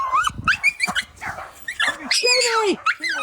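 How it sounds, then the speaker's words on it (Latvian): Three dogs chasing a fox during a hike at Lilaste on the Latvian coast, sharp excited barks and yips near the microphone, mixed with people shouting over them. "Man ir 3 suņi un tur ir lapsa!"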